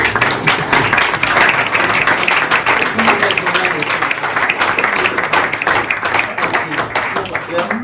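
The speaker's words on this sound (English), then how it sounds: "I think that's worth a round of applause." Crowd applause at a hockey club's 60th birthday gathering, many hands clapping continuously and fairly loudly, with some voices mixed in beneath the clapping.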